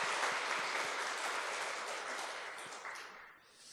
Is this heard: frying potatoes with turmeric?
no